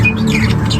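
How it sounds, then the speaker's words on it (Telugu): Lovebirds kept at a riverside resort give a short, sharp squawk close by, heard alone over a low background hum. "సో ఇట్లా లవ్ బర్డ్స్ ఉన్నాయి గైస్."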